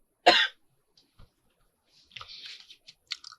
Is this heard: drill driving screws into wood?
no